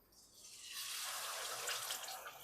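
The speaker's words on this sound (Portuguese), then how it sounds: "Barulhinho de passata." Tomato passata poured into a pan of sizzling garlic, a liquid pour that swells quickly into a loud, steady frying hiss and spatter, close and alone with no talk.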